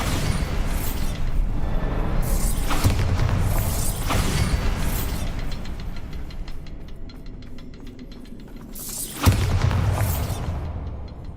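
Bombarda blasting spells go off in Hogwarts Legacy, with several heavy booming explosions followed by crumbling rumble and debris, one sharp blast standing out late, all loud and close with no talking.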